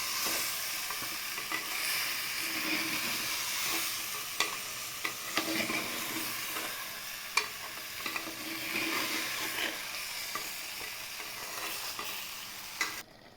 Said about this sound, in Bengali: মশলা দিয়ে চিকেনটাকে কষছি